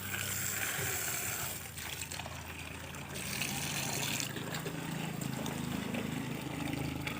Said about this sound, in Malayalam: അവൻ നമുക്ക് വെള്ളം ഒഴിച്ച് തരും.